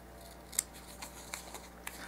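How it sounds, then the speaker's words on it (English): Small scissors snip paper for a miniature dollhouse book in a series of quiet, crisp cuts spaced unevenly, close and faint against a soft room hiss. "I'm just gonna use a small pair of scissors for this."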